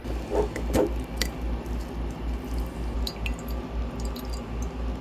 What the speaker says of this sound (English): Makes it drip faster.